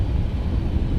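An MD-11 freighter's thrust reversers roar after landing in X-Plane 11, a dense, steady, low-heavy rush of engine noise filling the whole second.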